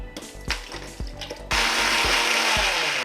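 Mixer grinder blending a glass of curd into a summer drink, first short rhythmic pulses in bursts, then a continuous loud whirring run, close to the microphone with no talk.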